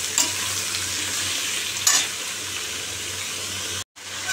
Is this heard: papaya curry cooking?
yes